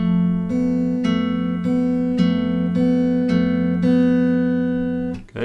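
Fingerpicked guitar plays the intro measure of a song, with the thumb on the 6th string and fingers on the 4th and 3rd strings. Close, clear plucks fall in an even rhythm about every half second over sustained ringing notes.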